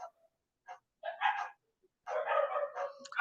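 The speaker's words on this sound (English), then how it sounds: "dogs are barking" Dogs barking and yipping nearby: a few short isolated barks, then a longer burst of several overlapping barks and yelps, fairly clear against an otherwise quiet room with no talk.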